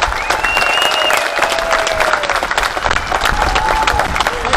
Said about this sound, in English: Give a round of applause for Mr.